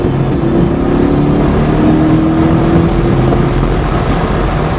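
A race car accelerates along a cone course, its engine droning loud and close with a steady rising tone, continuous through the whole stretch.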